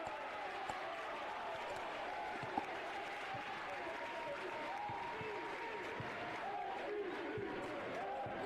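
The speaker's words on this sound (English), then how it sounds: "the crowd's chanting MVP" Crowd noise at a high school boys basketball game, a steady roar of voices and rhythmic chanting with scattered claps filling the gym while a commentator talks over it.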